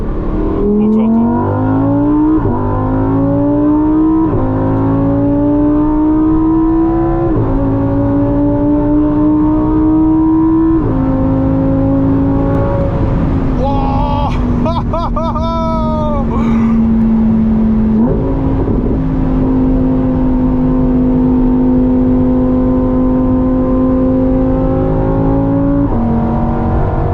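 Lamborghini Huracan EVO Spyder V10 engine in Corsa mode at full throttle on the Autobahn, a loud, continuous howl that climbs repeatedly through the gears with brief dips at each shift, heard close and alone without talk.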